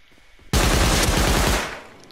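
Rapid Tommy gun fire from the video game Rust, a dense, loud burst of automatic shots that starts abruptly after a short quiet lead-in and runs for about a second before cutting off into a fading tail.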